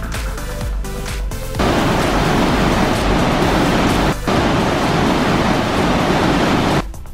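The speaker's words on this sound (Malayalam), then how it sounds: "പുഴ ഒഴുകുന്ന ശബ്ദം കേട്ടില്ലേ" A fast river near Sangchen Choekhor Monastery in Bhutan rushes loudly and steadily close by, a dense roar of flowing water with a brief dip partway through and no talk.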